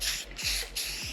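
A turbo spray paint can lays a 10-inch fan pattern in satin finish on an automotive part, giving close, loud hissing bursts broken by brief gaps, with faint low thumps.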